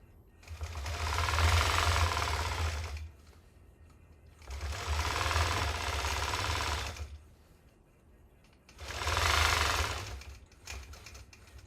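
A longarm quilting machine stitches in the ditch in three sustained runs of rapid, even needle chatter with a low motor hum, separated by brief quiet pauses.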